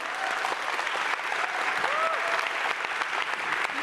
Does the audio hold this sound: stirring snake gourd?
no